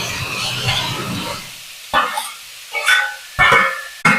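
Egg and vegetables frying in a pan for shrimp fried rice give a steady sizzle that gives way to short bursts of scraping and stirring.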